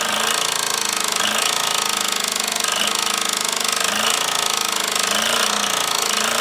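Restored Mamod SE2A model steam engine runs steadily up close, a fast continuous mechanical chuffing and knocking beat with a harsh, noisy hiss throughout and no talking.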